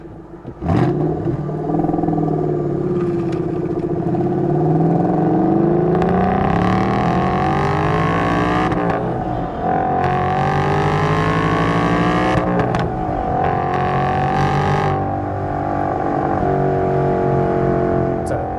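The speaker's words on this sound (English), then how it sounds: "Awesome sounding exhaust note." A 2012 Ford Boss 302 V8's exhaust roars loudly up close, rising and falling through several revving accelerations and gear changes of its six-speed manual as it drives.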